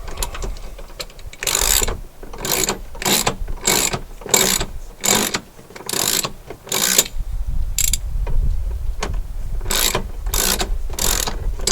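A hand ratchet wrench tightens bolts on the dash of a 2006 Jeep Wrangler TJ during heater replacement, giving repeated bursts of quick pawl clicks in short rhythmic strokes, close and fairly loud, with no talk.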